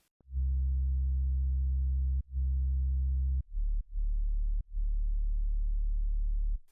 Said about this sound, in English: This is how my sub sounds at the moment.